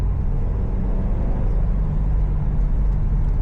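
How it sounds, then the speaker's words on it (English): Steady low engine drone from a 2018 Subaru WRX STI turbo boxer driving in sport mode on a Winnipeg winter road, a constant rumble heard from inside the car with no talk. "You can hear that turbo just the slightest bit."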